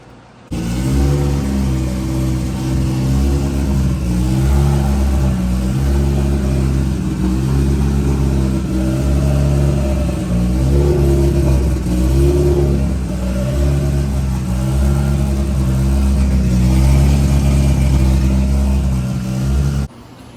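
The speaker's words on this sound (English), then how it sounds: "As you guys can see, motor is up and running. Sounds freaking amazing." A freshly rebuilt car engine idles loud and close, its deep steady rumble swelling with repeated revs through the whole stretch.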